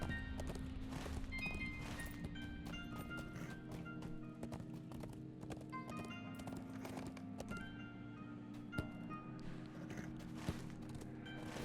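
A horse galloping in The Lord of the Rings Online, rapid rhythmic hoofbeats that run steadily throughout, faint and even, over a quiet game music bed.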